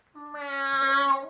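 A cat in a children's story about a little mouse gives a single drawn-out, rising meow, close and clear, with nothing else around it.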